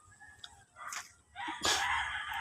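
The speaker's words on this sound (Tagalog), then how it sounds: "Yan, manukan ni Boboy daw" Chickens and a rooster at a rural chicken coop, with a few short clucks and squawks followed by a louder crowing call near the end, moderately close.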